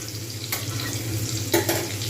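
Cauliflower florets frying in hot oil until browned, a steady close sizzle with a couple of brief louder bursts as the pieces are stirred or moved.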